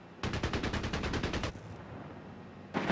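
Rapid automatic gunfire in Company of Heroes 3 sounds as a burst of about a dozen evenly spaced shots, loud and close, then a brief lull before more noise.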